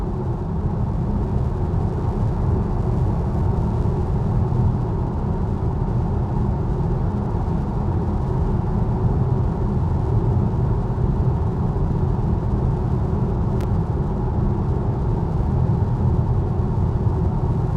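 Steady low road rumble and tyre noise inside a VW ID5 GTX electric car driving on a concrete surface at night. A constant, loud drone holds throughout, with one faint brief tick near the end.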